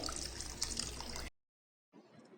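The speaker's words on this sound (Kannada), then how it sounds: "ಇನ್ನೊಂದು ಅರ್ಧ ಬಟ್ಲಷ್ಟು ನಾನು ನೀರು ಹಾಕ್ಕೊಳ್ತಾ ಇದ್ದೀನಿ" Half a cup of water pours steadily into a pot of vegetable sambar for about a second, then cuts off abruptly, followed by a faint rustle.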